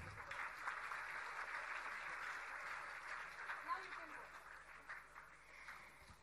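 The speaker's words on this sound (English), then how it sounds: "Please have a huge round of applause." Applause from an audience at an incubation centre inauguration ceremony, a steady, fairly faint, distant patter of many hands clapping continuously.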